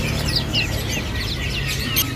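A Bali myna calls among a kiosk's stock of caged birds, sharp chirps and whistled notes repeating over a steady low hum of the shop.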